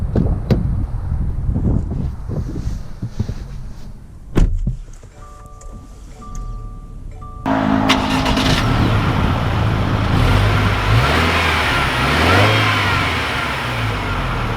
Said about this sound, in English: let's take out this new Onyx Edition to see how it drives